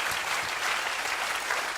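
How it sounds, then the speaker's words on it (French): Sustained applause from a church congregation, a dense, steady wash of clapping hands filling the space at even loudness throughout, with no voices standing out. "que ceux qui le croient applaudissent bien fort le roi des rois"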